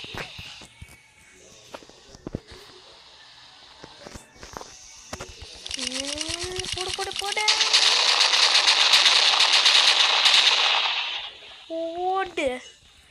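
In a fireworks video game, a firecracker fizzes and crackles in a rising, sparkling burst for several seconds, loud against scattered small pops and clicks before it, with someone talking over parts of it.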